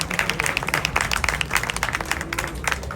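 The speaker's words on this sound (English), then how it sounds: "Let's do a big round of applause for him one more time." A crowd at a journalists' awards ceremony applauds: dense, steady clapping from many people throughout, fairly loud and continuous, with faint voices mixed in.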